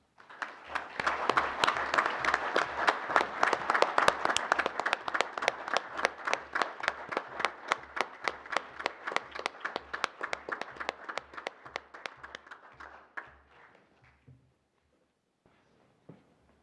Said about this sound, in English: we can give everybody a round of applause for